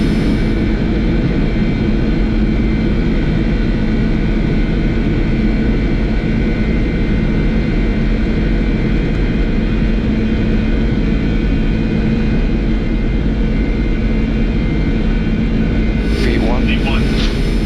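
Boeing 747-400 jet engines at takeoff thrust on a Mumbai departure roar steadily and loudly from inside the cockpit, a dense, constant rumble with tonal whine, while crew voices speak underneath.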